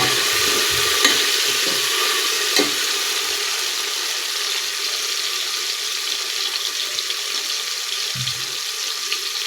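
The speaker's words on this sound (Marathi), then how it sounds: "टोमॅटो आपल्याला मऊ होईपर्यंत परतून घ्यायचा आहे" Chopped tomato sautéing with onion in a pan until soft, a steady hiss of frying close up, with a few soft stirring taps early on and no talk.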